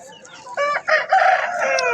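A large rooster crows loud and close at a busy village poultry market, one drawn-out crow in rising bursts lasting about two seconds.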